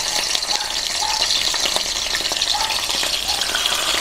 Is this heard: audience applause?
no